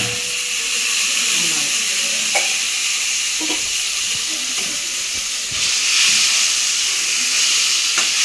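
Tomatoes frying in a little oil in a pan, a steady loud sizzle and hiss throughout with occasional stirring clinks, swelling slightly near the end.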